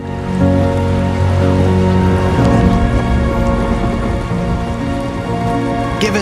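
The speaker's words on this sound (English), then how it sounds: "Rainy." Steady, dense rain pours over the landscape in the video game Death Stranding 2, a continuous close hiss with layered droplet patter and a low rumble beneath, holding constant throughout with no one talking.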